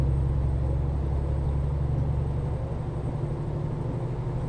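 An International LT fleet truck in a truck-driving video game, running an aftermarket engine sound pack, drones along at a steady low rumble with constant road noise and no talk.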